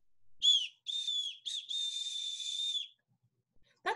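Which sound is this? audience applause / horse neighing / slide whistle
slide whistle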